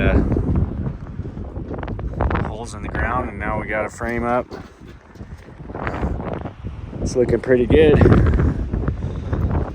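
Gusty wind buffets the microphone outdoors at a construction site, rumbling low throughout while someone talks over it.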